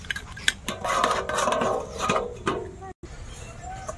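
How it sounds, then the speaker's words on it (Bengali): Metal cookware clatters as a lid goes onto a pot of crab and tomato curry, a few close clanks and scrapes over faint background, followed by a brief gap and quieter kitchen sounds. "তো এখন একটু ঢাকা দেবো।"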